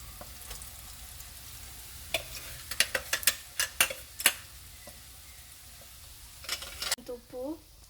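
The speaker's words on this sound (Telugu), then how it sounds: "ఇప్పుడు మసాలాని కాకరకాయ పైన వేసేసుకోవాలి." Small bitter gourds fry in a pan as masala is stirred through them, with quiet sizzling broken by a cluster of sharp spoon clicks against the pan, and a voice speaking briefly near the end.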